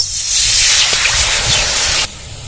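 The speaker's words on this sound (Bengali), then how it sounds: "কড়াইটা আবার বসিয়ে দিয়েছি কিছুটা জল দিয়ে দেবো" Water splashed into a hot wok after spices were fried for raw mango pickle gives a loud, steady hiss of steam for about two seconds, which then drops suddenly to a quieter fizz.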